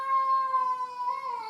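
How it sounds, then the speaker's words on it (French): A single drawn-out cat meow, close and clear, holding a steady tone for over a second with a slight wavering toward the end, with no other sounds around it. "mon chat te dit"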